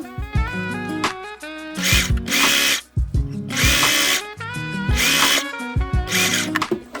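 An electric sewing machine stitches and back-stitches a seam on a fabric headband, its motor whirring loud and close in repeated bursts with short pauses between them.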